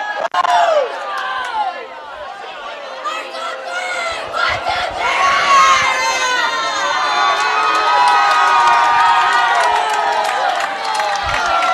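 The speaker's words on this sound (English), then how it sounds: "I think they heard the Napoleon fans cheering all the way back in Napoleon" Napoleon fans cheering at a girls' OHSAA Division 2 state bowling tournament, a loud crowd of high voices shouting and whooping continuously, with scattered clapping and rumble from the arena.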